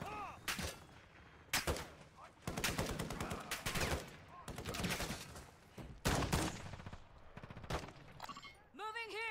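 Rapid video game gunfire in a team battle, dense bursts of automatic fire and sharp shots hammering almost continuously, with players talking over the shooting.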